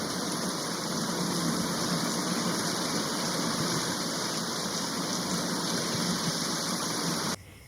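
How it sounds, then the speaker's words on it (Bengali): Heavy rain falls in an animated cartoon, a loud, dense, continuous hiss and patter that holds steady for several seconds before cutting off abruptly, with no talk. "এ তো দেখছি বৃষ্টি থামারই নাম নিচ্ছে না, কখন থেকে বৃষ্টি হয়ে যাচ্ছে।"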